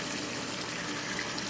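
Water pumped up through a plywood flood table bed of pumice gushes and splashes steadily, a bright, even rush of flowing liquid close by with no talking.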